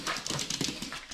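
Dogs whimper and yip in a short burst of high, whiny cries, several quick overlapping whines close by with no talking.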